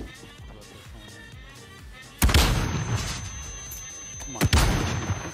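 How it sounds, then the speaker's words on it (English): Stun grenades in Call of Duty Warzone burst twice, a sharp loud blast followed a couple of seconds later by another, each leaving a ringing wash over ongoing battlefield gunfire and game noise. "how many fucking stun grenades does he have?"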